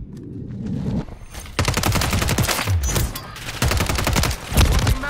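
Gunfire in a first-person shooter video game, loud and close, with rapid automatic bursts crackling in dense volleys, a brief lull in the middle, then more sustained firing.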